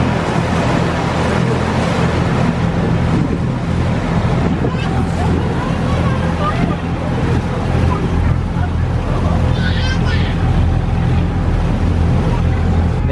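A passenger boat on the Kuttanad backwaters in Kerala runs with a steady, loud engine drone and water wash filling the whole stretch without pause, and voices talk faintly underneath.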